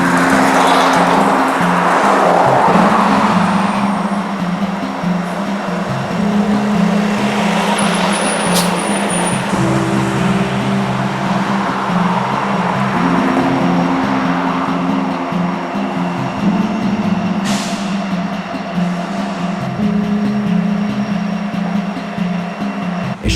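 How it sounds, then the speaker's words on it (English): Norfolk Southern southbound intermodal freight train, short, led by two AC-44 locomotives, rumbling by over a tunnel near Inman Yard; a loud, steady diesel drone with shifting engine tones holds for the whole stretch, with no talk. "another southbound intermodal train, a very short one, came on by over the tunnel with two AC-44s"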